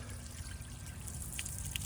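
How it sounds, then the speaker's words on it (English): Water is poured onto a coated car tire and runs off in a soft, continuous trickle with faint splashes and drips, fairly quiet throughout. "So let's just put some water on this tire"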